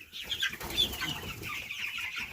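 Chickens on a chicken farm cluck and squawk nearby in a loose, overlapping chatter with a few sharper, higher calls over a low background.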